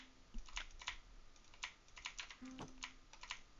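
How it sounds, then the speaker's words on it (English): Computer keyboard and mouse clicks during fast looting in Minecraft speedrunning, a quick irregular run of close, crisp taps and clicks with no voices. "left click again, and then press shift again"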